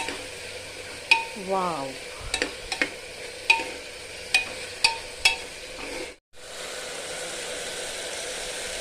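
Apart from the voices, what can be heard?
frying chopped items in a pan for jackfruit biryani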